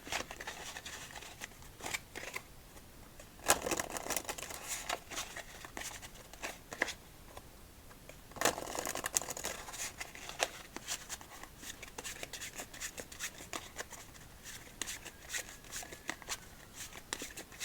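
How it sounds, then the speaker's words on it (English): Crisp riffling bursts of playing cards being shuffled, with two louder flurries and lighter rustling between them, close up and without talk. "Just the riffle of the cards with this killer pattern."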